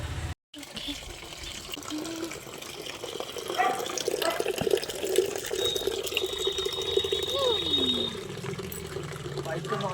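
Water runs steadily from a timed public tap in a Bengali household, a continuous trickling splash under light household clatter and a faint voice in the background.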